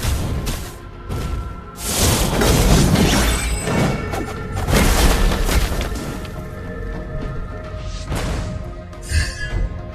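A turret blowing up in the Mobile Legends: Bang Bang video game, heavy booming blasts and crashes that surge in loud waves, with a sharp final hit, dense and close.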